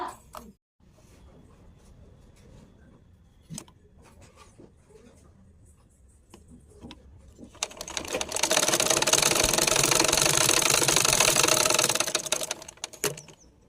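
Sewing machine stitching the shoulder seam of a churidar, a loud close steady whirring run lasting several seconds after quieter handling taps and faint background.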